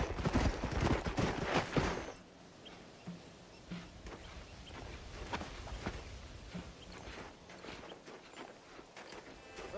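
Horses walking in the Western game Red Dead Redemption, their hooves clip-clopping loudly for the first couple of seconds, then fainter and sparser footfalls continue under a quiet outdoor ambience.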